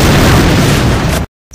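An artillery high-explosive round detonates as a loud, sustained roaring blast that fills the clip, then cuts off abruptly into silence.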